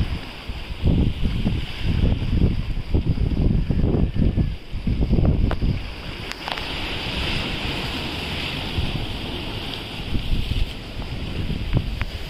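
Rough, aggressive sea churns around a small fishing boat out after barramundi, with strong wind buffeting the microphone and waves slapping the hull in heavy bursts early on, then a constant roaring rush of wind and water.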